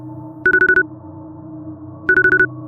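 An incoming call sets a phone ringing in two quick trilling bursts of rapid electronic pulses, separated by a short pause, over a low steady background hum.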